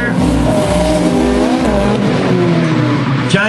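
A drift train of five Nissan cars sweeps past at Tailem Bend, loud and close: engines roar and rev continuously while tires squeal and skid throughout.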